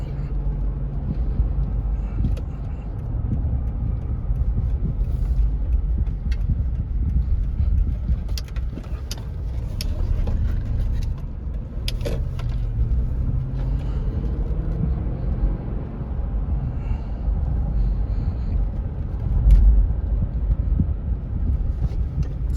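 A 2011 Lexus LX570 with a 5.7 V8 rumbles smoothly while driving, heard as a steady low drone from inside the cabin with wind noise, a slight throttle swell near the end, and someone talking at times.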